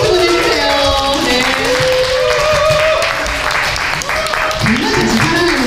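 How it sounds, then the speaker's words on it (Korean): An audience applauds a soprano being introduced after a radio opera performance of Madama Butterfly, sustained clapping throughout with a host's voice talking over it. "박수 보내주세요."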